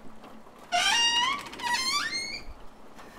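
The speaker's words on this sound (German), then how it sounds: "Ich öffne die erste Tür." A door creaks open slowly in a zombie radio drama, a loud, close, drawn-out squeal with two rising and falling strains over a quiet background.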